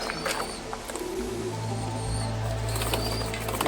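A pigeon flaps its wings in a quick burst, with soft cooing and bird sounds over a low steady hum, fairly quiet and close.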